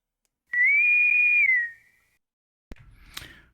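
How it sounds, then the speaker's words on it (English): A person whistles one clear sustained note that bends down at its end, followed by a pause and then a short burst of clatter and noise. "You got to whistle it."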